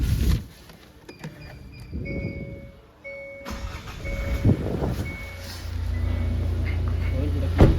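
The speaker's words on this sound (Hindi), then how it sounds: "गाड़ी अपनी स्टार्ट कर ली" A new car's engine cranks and catches during a pre-delivery inspection, settling into a low, steady idle after a few quiet electronic chimes and beeps.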